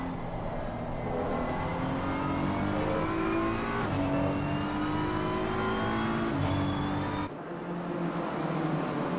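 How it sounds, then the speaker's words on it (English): GT race cars lapping in the sim racing game Assetto Corsa Competizione, engines droning and revving through gear changes, with a brief tire squeal and the note dropping sharply near the end. "We can see these 2 still very close to each other, the 777 and the 32 car of Totev and Michiels."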